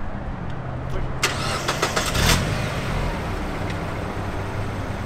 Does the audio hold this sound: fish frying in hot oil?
no